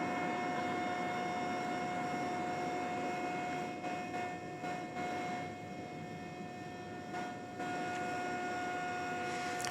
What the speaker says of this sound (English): here's our second Qantas flight of the night